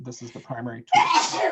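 A sharp, noisy sneeze bursts out right after a man's speech during an indoor emergency-response volunteer training session, loud and close, lasting about half a second.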